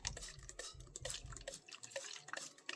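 Water is spritzed from a spray bottle onto a painted bisqueware plate: a series of soft, quick hissing bursts with faint pump clicks, quiet and close.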